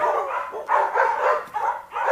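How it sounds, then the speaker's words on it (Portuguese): A domestic dog barks repeatedly and close, in about four sharp bursts with short gaps between them and no talk over it. "cães domésticos latem porque aprenderam a latir."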